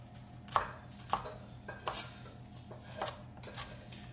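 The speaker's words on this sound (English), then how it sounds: "So I'm just kind of running the knife through it." A knife runs through leftover rotisserie chicken on a cutting board, giving several distinct, fairly quiet chopping knocks at uneven intervals, close by and with no talking.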